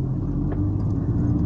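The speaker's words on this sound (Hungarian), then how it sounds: "Jön egy busz" A bus approaching in city traffic, heard as a steady low engine rumble from inside a car, without talk.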